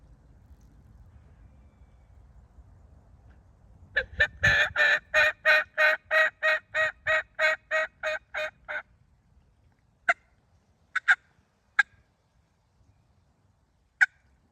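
A gobbling turkey in a field: a loud rapid run of rhythmic calls lasting several seconds, followed by a few isolated sharp yelps in otherwise quiet surroundings, probably from a hunter's mouth call.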